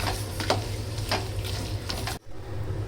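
Mutton kothu curry with chilli powder and pepper being stirred in a pan, a steady low sizzle under repeated soft scraping strokes, close by, with a brief drop to near silence toward the end.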